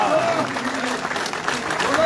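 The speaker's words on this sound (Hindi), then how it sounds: "तालियों की गड़गड़ाहट होनी चाहिए।" Supporters at a BJP political rally clap together in a dense, steady wave of applause, with crowd noise and faint voices carrying through it for the whole stretch.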